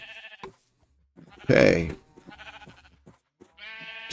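A sheep bleats once, loud and close, in a village farming game, set between stretches of background music and a brief spoken word.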